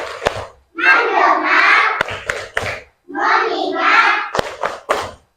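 Children clap sharp, sparse hand claps in a classroom clapping game, tepuk fokus, alternating with group chanting, single claps landing between the chanted words.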